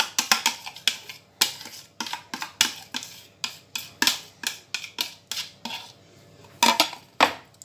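Repeated close clinks of a utensil against a bowl while melted butter is mixed into peach cake batter made with eggs, vanilla sugar and a pinch of salt, in a quick, uneven rhythm with no talking.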